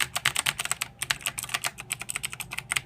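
Rapid, steady typing on a Razer BlackWidow Ultimate mechanical keyboard, with dense, crisp keystroke clicks filling the whole stretch, close and alone with no talking.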